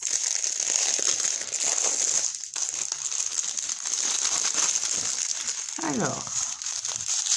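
A Christmas unboxing package of rhinestone diamonds being opened, close crinkling and rustling of plastic wrapping in bursts, with a brief spoken word at the start.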